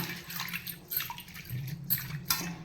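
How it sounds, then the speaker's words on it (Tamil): Water sloshing and splashing in a bowl as agar agar is rinsed by hand, with soft drips and swishes throughout, fairly close. "தண்ணியில் நம்ம இதை ரெண்டு டைம் கழுவிக்கலாம்"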